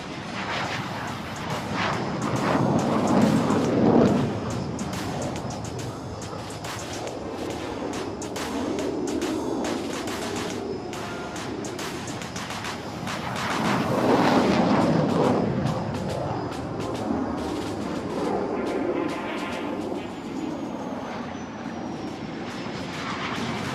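Military aircraft roaring overhead at a large air show in Bengaluru, a sustained broadband jet rumble that swells twice as the planes pass close, with crowd and ambient noise beneath.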